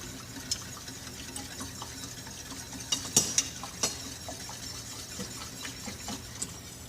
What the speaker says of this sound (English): Grab my mighty little whisk, let it do its thing.